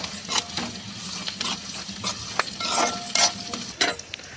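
Sliced onions fry in a pan with curry leaves while a spoon stirs them. The oil sizzles steadily underneath, and the spoon scrapes and clinks against the pan at irregular moments.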